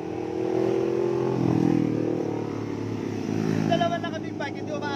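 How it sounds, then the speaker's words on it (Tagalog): A motorcycle engine rises and swells as it approaches and passes nearby, then fades slightly, with people talking over the tail end. "Ayun na. Ang motor."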